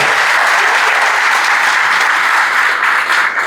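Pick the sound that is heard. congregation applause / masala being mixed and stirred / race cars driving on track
congregation applause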